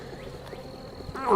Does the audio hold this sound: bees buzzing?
yes